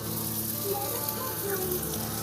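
Hot oil sizzling in a cooking pan with garlic while dal bhat is being prepared, a steady close frying hiss that runs the whole time with no break.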